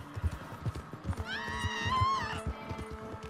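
A horse in Red Dead Redemption 2 bolting off, rhythmic clip-clop hoofbeats with a loud whinny rising in the middle, close and clear, no talk.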